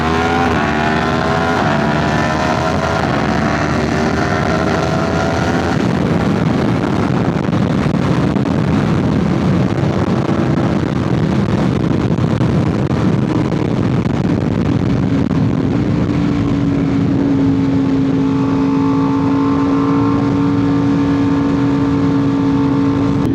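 A superbike engine drones loudly and steadily through traffic at close range, with rising and falling revs, sustained tones shifting in pitch and constant wind rush over the rider's Shoei X15 helmet.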